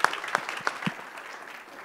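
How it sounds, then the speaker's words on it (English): An audience greets a speaker at a UX talk with a few sparse, distinct claps that quickly die away into quiet room tone. "So if you can give a round of applause for Jon"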